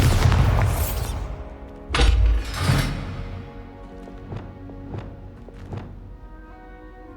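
A Bombarda explosion spell in the video game Hogwarts Legacy, with heavy booming blasts and thuds followed by scattered debris clatters and taps that fade out.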